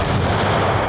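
World War I artillery fire roars as a continuous, dense barrage of heavy booms, loud and unbroken through the whole second with no voices.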